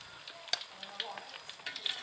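Battered tempeh mendoan with crispy kremes batter fries in hot oil, giving a quiet, steady crackling sizzle dotted with sharp pops and spatters.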